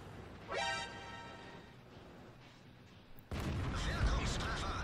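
A tank gun fires in the online tank game World of Tanks: after a short tonal sweep, a sudden loud blast booms in and leaves a dense, sustained rumble to the end.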